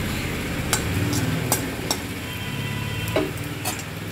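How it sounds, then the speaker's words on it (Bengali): Two dried red chilies fry in hot oil in a pan, a steady sizzle broken by sharp scattered clicks and taps of a utensil against the pan, close and fairly loud. "এখন এই তেলটার মধ্যে এই দুটো শুকনো লঙ্কা দিয়ে দিলাম।"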